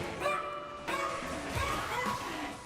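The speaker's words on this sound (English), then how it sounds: "Why did the dogs get louder?" Dogs bark and yip in quick, overlapping bursts, fairly close and loud, with some whimpering mixed in, heard during a Diablo 2 game stream.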